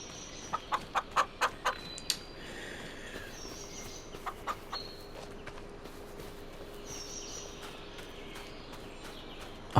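Chickens in the Farm Sim 25 video game give a quick burst of sharp clucks early on, then a few scattered clucks. Quieter farmyard ambience continues underneath.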